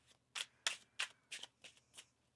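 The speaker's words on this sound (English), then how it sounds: "One more shuffle here." Tarot cards being shuffled by hand: a quick series of about seven crisp riffling bursts in a row, close and quiet, with no talking.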